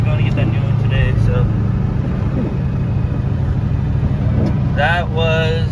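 A 700 hp 6.0 Powerstroke diesel rumbles loudly up close, a deep steady engine drone with a rising whine near the end, while someone talks over it.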